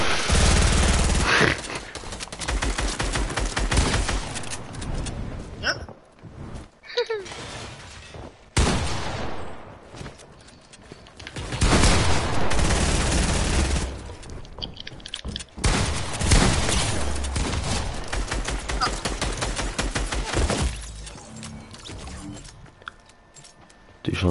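Gunfire in a video game, dense bursts of rapid shots and loud booms coming in long stretches broken by brief pauses, close and harsh, with no talking.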